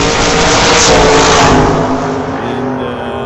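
Loud, continuous roar of drag race cars launching and accelerating side by side in a heads-up old-time drag race, engines revving hard and sustained across the whole moment before easing slightly near the end.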